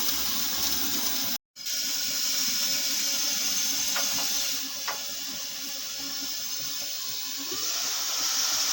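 Masoor dal at a boil in a pot on a high flame gives off a steady bubbling, hissing rush of water and steam, close and continuous, briefly cut out for a moment early on.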